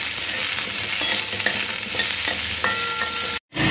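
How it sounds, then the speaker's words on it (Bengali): Small potato pieces frying in hot oil in a pan for a Bengali fish curry: a steady, close, fairly loud sizzle with light crackles, cutting out briefly near the end before resuming. "আলুটাও লাল করে একটু ভেজে নেব।"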